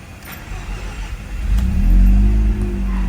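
A 1997 Mazda RX-7 FD RS-R rotary engine fires up on a hot start, the starter cranking briefly before the engine catches into a loud, rising rev and settles into a rough, droning idle close by.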